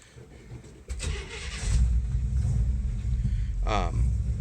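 A 1972 Scout II engine with a broken choke, held at high idle with the throttle cable, cranking then settling into a loud, steady, rumbling idle nearby while someone talks.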